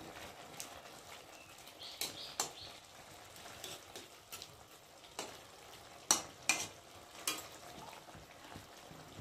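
Small fish simmer in curry with potatoes while a spatula stirs, giving faint bubbling and scattered sharp clicks and scrapes against the pot, quiet and close with no talking.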